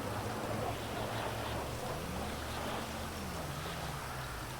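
Steady rain on a rainy day forms a continuous, even hiss of droplets with a faint low tonal hum underneath, holding level throughout with no voices.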